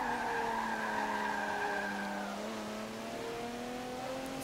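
A car in Forza Motorsport 7 drifts through a long slide on a Sport Touring race, its tires squealing in a sustained, wavering screech over the steady engine drone.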